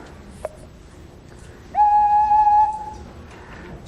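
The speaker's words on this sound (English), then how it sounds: "there is a sound wave being generated because the column of air is vibrating inside the length of this whistle" A whistle extended further with added tube pieces sounds one sustained, lower steady tone for about a second, loud and close, after a quiet stretch with a short blip.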